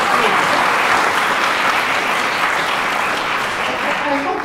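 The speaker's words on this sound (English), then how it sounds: "Josh, really, give Josh a round of applause." An audience at an academic lecture gives a round of applause, thick, steady clapping that carries evenly from start to end, with some voices faintly mixed in.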